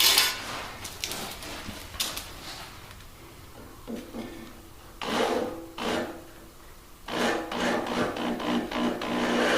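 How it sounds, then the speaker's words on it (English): A reamer scrapes paint out of the snug pin holes on a tractor loader arm, giving several irregular gritty rasping bursts with pauses between them, at moderate volume over faint shop background. "we're going to have to ream the paint out of the holes down here, because it is a very snug fit."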